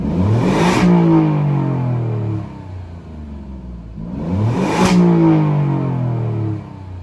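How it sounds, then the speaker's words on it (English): An Alfa Romeo Giulia Quadrifoglio engine is free-revved twice in neutral, each blip rising sharply to a loud, rasping peak and falling back to idle, heard up close with no talk. "So we are on N, and I'm a free rev it. See if you guys can hear the tone."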